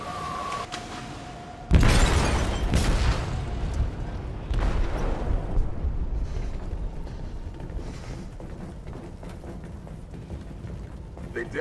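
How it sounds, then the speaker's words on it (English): A single heavy explosion detonates inside a ship's hold in Detroit: Become Human, striking suddenly after a thin tone and low ambience, then a long rumbling roar with crackling debris that slowly decays. "They detonated an explosive in the hold."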